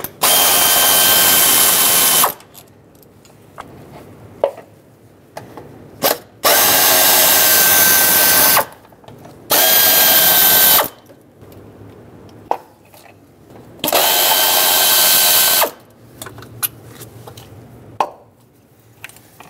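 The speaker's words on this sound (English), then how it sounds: "use a 7mm socket and remove the bolts that hold the ignition coils onto the valve cover" Power driver or ratchet spinning out the 7mm ignition coil bolts on the valve cover of a 2008-2010 Ford F-250 5.4L V8, four loud bursts of whirring each lasting a second or two, separated by quieter pauses with small clicks.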